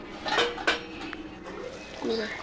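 A metal lid clatters onto a pot of Telangana-style bagara chicken curry with rice, with two quick clinks close by, followed by soft kitchen rattling and faint bubbling.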